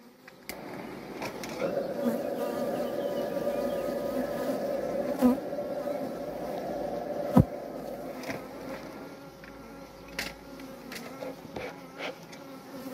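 Honeybees buzz densely at an open beehive during spring hive work, a loud, close, sustained drone with occasional sharper clicks and knocks from handling the frames.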